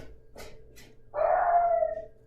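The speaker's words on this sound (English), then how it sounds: "Sorry for the doggy noises." A dog howls once in a long, drawn-out wail after a couple of faint short sounds, fairly close and clear against a quiet background.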